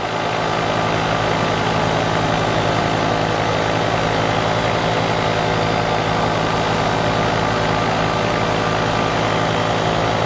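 A paramotor engine drones steadily and loudly throughout, a constant close buzzing hum in flight with no pauses or talk.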